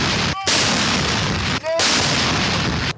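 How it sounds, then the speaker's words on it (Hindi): Two ceremonial cannon shots from a 21-gun salute opening Pakistan's Independence Day in Quetta, each a short sharp boom with a brief gap, set in steady loud background noise. "कोयटा में दिन का आगाज 21 तोपों की सलामी से हुआ।"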